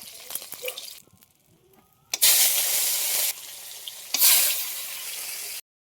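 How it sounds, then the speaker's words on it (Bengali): Bata fish are slipped one at a time into hot oil in a kadai, bringing two loud, close bursts of hissing sizzle, each lasting about a second, after quieter clinks. "মাছগুলো এক এক করে দিয়ে আমি ভেজে নেবো।"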